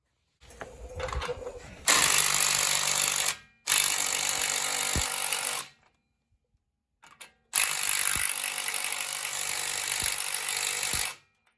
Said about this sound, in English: that's as far as we're going to go with this 3/8 drive ratchet